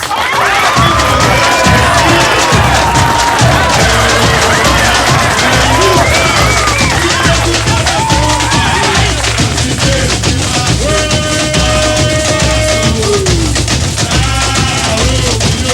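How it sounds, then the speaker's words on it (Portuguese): A large carnival crowd cheers, whoops and applauds continuously at a samba school parade, a loud, dense roar of voices and clapping with music and whistles mixed in throughout. "Palmas."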